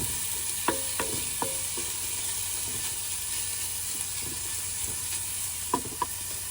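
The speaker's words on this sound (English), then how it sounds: "Onions and bacon going in. Gonna let these cook down for a little bit." Onions and bacon frying in a pan at a campsite, a constant bright sizzle with a few light clicks and taps from stirring, close and without talk.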